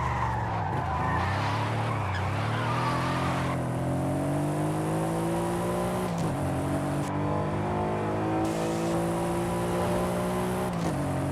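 Mercedes SL, a heavy car in Forza Horizon 5, with its engine note climbing steadily and continuously under acceleration, gear changes breaking the rising pitch and some tire skid in the mix, loud and close with no talking.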